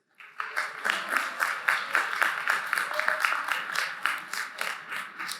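Scattered clapping from a commencement audience at a STEM graduation rises quickly and carries on unevenly, a roomful of hands in a large hall, no talking over it.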